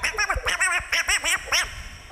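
A person imitates the Donald Duck voice on a trivia show, making a quick string of raspy, quacking syllables in short, close bursts with small pauses between them.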